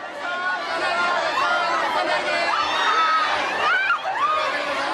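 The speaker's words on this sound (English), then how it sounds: "The crowd surges forward, and suddenly it seems like things are getting dangerously out of control" A dense crowd outside a bookshop in Japan chatters and surges, a steady loud wall of overlapping voices with occasional shrill shouts rising above the hubbub.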